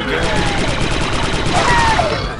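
Steady, dense blaster fire in the Star Wars shooter Republic Commando runs as a continuous loud barrage, with voices mixed in under the shooting.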